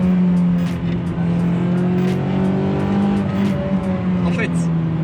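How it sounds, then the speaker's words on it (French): Toyota MR2 sports car engine pulling steadily under careful acceleration, a continuous loud drone close by with a slowly rising pitch, overlapped by someone talking throughout. "On va essayer d'accélérer un petit peu avec précaution."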